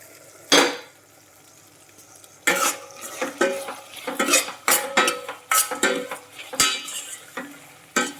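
A spoon scrapes and clanks against a pot while pumpkin curry is stirred and fried, sharp metallic strikes coming in irregular bursts with a faint sizzle underneath, close and fairly loud.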